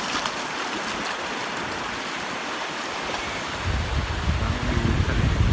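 Sea waves at Sattahip beach in Thailand, a broad continuous wash of surf with wind, swelling louder in the last couple of seconds as a wave rolls in nearby.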